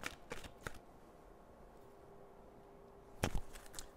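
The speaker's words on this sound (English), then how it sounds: "I'm sorry if shuffling, if that was sort of bumping the microphone." Quiet room with a few soft papery riffles of tarot cards being shuffled, a brief burst at the start and another near the end.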